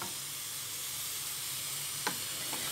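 Coriander and parsley frying in oil for an eggplant dish, a steady soft hiss with a couple of brief utensil clinks near the end.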